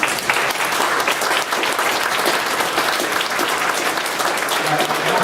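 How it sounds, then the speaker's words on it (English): Students at a 2012 nuclear power program ceremony applaud their instructors, a steady, dense clapping that carries through the whole clip, with a voice faintly audible underneath. "The students are applauding for them now."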